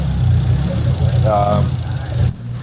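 A Nissan R33 GTST Skyline engine with custom intercooler piping idles unevenly, its low rumble pulsing and surging as it hunts for a steady speed, with a brief higher whine near the end.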